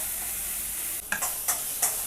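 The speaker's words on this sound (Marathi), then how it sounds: "मिरची व्यवस्थित फ्राय करायची म्हणजे कच्ची लागत नाही" A brief burst of green chillies pan frying: constant hiss with a few scraping stirs, close up and without speech.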